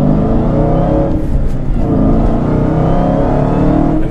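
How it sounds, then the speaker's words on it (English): A Dodge Hellcat V8 revs hard, loud induction whine blending with booming exhaust in a continuous, intense roar heard from inside the car, pitch holding high and steady throughout. "one of the best things about this car is just the pure sound coming out of that Hellcat. You have both induction noise and exhaust noise"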